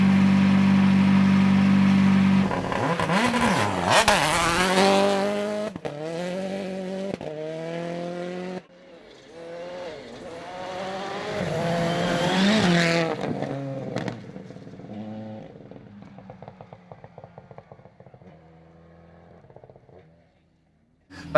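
A Toyota Yaris AP4 rally car runs a special stage at Rally Whangarei, its engine revving hard through gear changes and rising and falling as it passes, then fading away into the distance.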